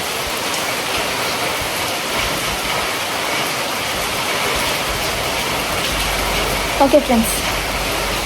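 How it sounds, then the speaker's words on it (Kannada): Rain and gusting wind hiss steadily around a new house, a broad continuous wash of noise with a brief spoken phrase near the end. "ಮಳೆ ಪ್ರಾಬ್ಲಮ್ ಇಲ್ಲ, ಗಾಳಿಯ ಪ್ರಾಬ್ಲಮ್ ಸ್ಟಾರ್ಟ್ ಆಯಿತು ನನಗೆ"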